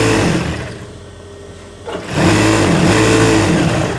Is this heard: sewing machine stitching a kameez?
yes